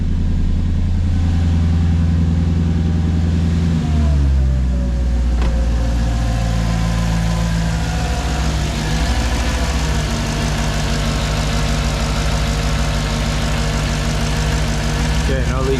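Mercedes C55 AMG V8 fitted with intake spacers and larger injectors, running loud and close with a deep steady idle that shifts pitch partway through, and a voice speaking over it.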